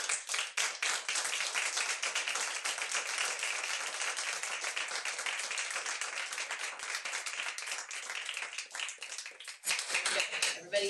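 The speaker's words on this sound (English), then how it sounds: "Let's give these guys a big round of applause." School board meeting audience giving a round of applause, dense rapid clapping sustained for about ten seconds, fairly close and even, easing slightly near the end before picking up again.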